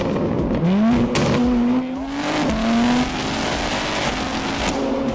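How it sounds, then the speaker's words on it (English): A BMW M2's engine blips and drops through downshifts inside a tunnel, the note rising sharply then sliding, with a booming echo around the loud, close exhaust. "Listen carefully to the change with each downshift."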